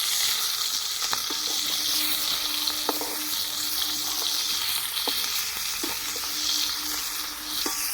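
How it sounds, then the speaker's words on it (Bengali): Koi fish frying in hot oil after being turned to its second side, a steady loud sizzle with occasional sharp crackles and pops throughout, no voices. "আমি আর এক পিঠ উল্টে দিচ্ছি।"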